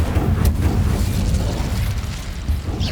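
A fire spell cast in Hogwarts Legacy roars loud and rumbling, with a sharp crackling burst near the start and then a sustained low whoosh of flame that holds for the rest.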